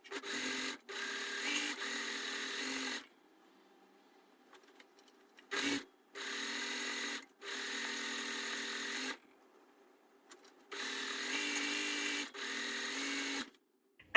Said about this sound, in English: What I do with the overlocking is I basically just zoom up the bottoms and then join in another one